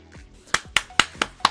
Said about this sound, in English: Give it a round of applause for Jinkx Monsoon.